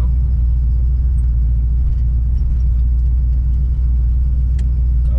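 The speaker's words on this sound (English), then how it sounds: "There's a car that was not here before." A nearby car rolls past on a highway near Huntsville, its low engine rumble and tire drone steady and fairly loud throughout, with no voices over it.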